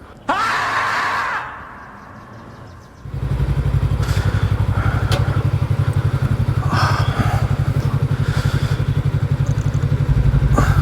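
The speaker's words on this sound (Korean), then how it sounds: "오토바이 좀 옮길게요" After a brief rev and a short lull, a Suzuki V-Strom 250 motorcycle engine starts and idles loudly nearby with a fast, steady throbbing putter.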